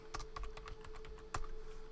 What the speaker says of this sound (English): And then you're going to type in diskpart.